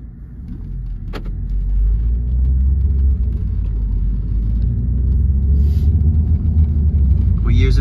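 A 2014 Ford Focus at an auction being driven, a loud steady engine and road rumble close inside the cabin, building slightly over time, with a few small clicks and rattles.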